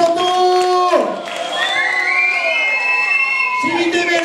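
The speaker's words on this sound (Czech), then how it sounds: "A za velkého pískotu!" A crowd at a travesti drag show in Club Knak, Teplice, cheers and shouts while piercing whistles rise and glide above the noise, loud and close, with the cheering dipping briefly in the middle before surging back.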